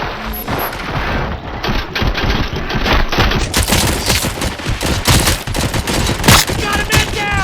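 Sustained automatic gunfire volley in the video game RoboCop: Rogue City, loud and dense with rapid overlapping shots, booms and mechanical clatter throughout.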